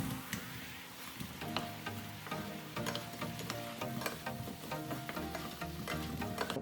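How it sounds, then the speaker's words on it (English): Chicken goes into boiling sauce in a pan and is stirred, giving a faint, steady bubbling sizzle with soft scraping of the stirring. "once the sauce starts boiling, add the chicken. Mix well."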